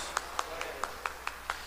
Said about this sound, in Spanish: demos un aplauso a nuestro buen Jesús por todos los favores que hemos recibido de Él el día de hoy